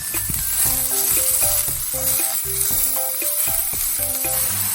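Shredded cabbage sizzles loudly in a hot covered frying pan after water is added, a bright continuous hiss and crackle over faint tapping and clattering.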